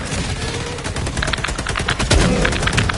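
Rapid, continuous small-gun fire in the video game Helldivers 2, loud and dense, with bursts overlapping other battle noise throughout and no pause.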